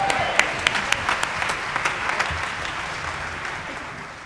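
Church congregation applauding the choir at a church anniversary service, a full burst of clapping that starts with a few sharp claps and settles into a steady, dense roar.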